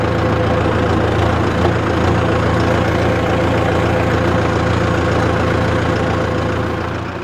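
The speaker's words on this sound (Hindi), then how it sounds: "इतने कम जगह में जो ट्रैक्टर है वो टर्न ले रहा है विदाउट ब्रेक के साथ में" A Mahindra Novo 605 DI PS 4WD tractor with a 50 hp engine runs loud and close, a dense, steady diesel drone that holds unbroken throughout and eases slightly at the end.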